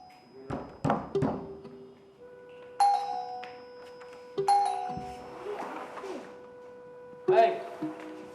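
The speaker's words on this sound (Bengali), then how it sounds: "প্রতিবার এখানে বেজে যায় কলিং বেল।" A household doorbell rings repeatedly in a Bengali drama scene, sounding several clear ding-dong chimes at intervals, with thuds and faint voices in between.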